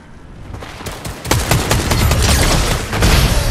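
Fortnite gunfire: a dense, loud volley of rapid shots and booms that grows heavier partway through and keeps going to the end, with no talk over it.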